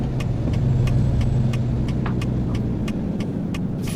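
A truck engine drones steadily while driving along a highway off-ramp in American Truck Simulator, a constant mid-low hum with faint regular ticking clicks over it, no talking.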